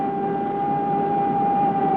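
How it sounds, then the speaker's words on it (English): A civil defense siren holds a steady, sustained wail with no pause, sounding over a low background rumble throughout. "one person whom the sound of the siren does not bother"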